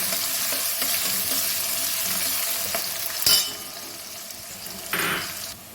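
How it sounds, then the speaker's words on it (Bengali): Onions sizzle in a pan for a light goat-meat and potato curry, with a steady hiss of frying broken by two brief sharp clinks of a utensil against the pan. "পেঁয়াজটা বেশ সুন্দর ভাজা ভাজা হয়ে গেছে"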